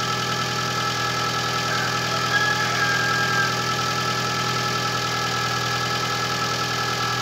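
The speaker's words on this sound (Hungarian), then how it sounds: "hogy megy lefelé az alapjárat" Suzuki engine idling after sitting unused for two months, a steady, even mechanical hum with a faint knocking texture, constant and close with no voices.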